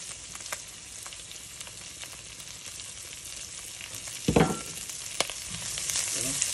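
Garlic and onion fry toward golden brown for pork ribs, making a soft, steady sizzle broken by a few clicks and one louder clatter of stirring midway.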